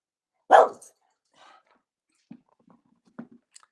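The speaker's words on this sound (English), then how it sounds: "my dog is barking" A pet dog gives one loud close bark, followed by a few fainter short barks and huffs spread over several seconds, with no talking.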